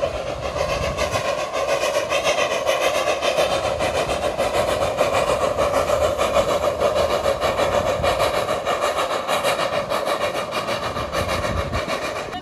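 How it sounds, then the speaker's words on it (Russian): A small smoking steam locomotive passes nearby in Germany, giving a steady, loud rumbling and clattering rail sound with a rasping, rhythmic chuff that lasts throughout. "Вот такой дымящий паровозик."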